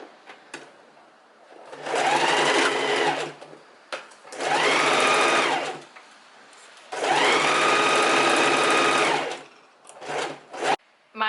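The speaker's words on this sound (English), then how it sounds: "And what we're doing now, we're just gonna do with a normal straight stitch. We sew from along here all the way down" Sewing machine running a normal straight stitch down the side seams of linen shorts, three sustained bursts of steady whirring separated by short pauses, close and loud with no talk.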